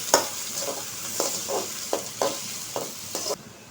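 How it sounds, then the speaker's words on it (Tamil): Two chopped onions fry in hot oil for a chicken kuzhambu while a spoon stirs them, giving a steady close sizzle broken by regular scraping strokes about every half second. "சேர்த்த பின்னாடி நல்லா மிக்ஸ் பண்ணிக்கலாம்."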